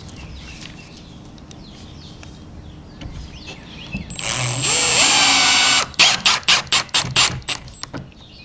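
A power drill drives 1¼ inch screws into a wooden trellis jig: a sustained whirring run builds, then a rapid series of short, loud bursts as the screw seats, close by with no talking.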